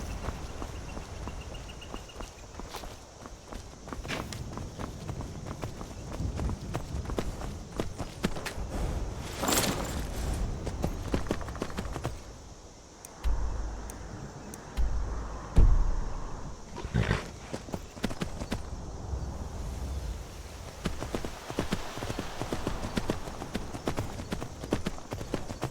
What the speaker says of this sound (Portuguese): O meu cavalo está a galopar.